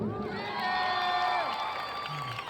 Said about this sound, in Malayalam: ഒരു പ്രാവശ്യം കൂടെ ആ കയ്യടി തരുമോ?